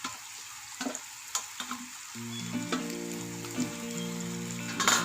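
Soto Medan ingredients, including chicken, are stirred and sautéed in a pan, giving a moderate sizzle with intermittent scraping taps and a steadier frying hiss in the second half.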